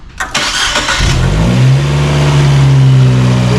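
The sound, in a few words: Fiat 124 Spider engine starting and revving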